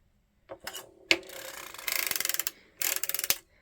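A hand-cranked circular sock knitting machine turning a rounded heel gives a close sequence of clicks, followed by two bursts of rapid rhythmic ratcheting clatter with a short gap between them.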